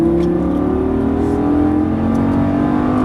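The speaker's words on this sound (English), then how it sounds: "hard on the throttle" A Lamborghini Gallardo LP550-2 on a coned track at full throttle, its engine note loud and close as the pitch rises smoothly and steadily with no pauses.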